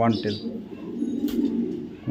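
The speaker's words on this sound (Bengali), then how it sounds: "শ্যাডেল রেসার ফিমেল কবুতর একটু দেখাচ্ছি, কবুতরটা ধরে।" A female saddle racer pigeon held in hand gives a low, rolling coo, close and steady, with a voice talking briefly at the start and end.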